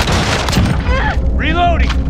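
Heavy gunfire and booming shots in a Call of Duty Modern Warfare team deathmatch, loud and close, with in-game character voices shouting over the shooting.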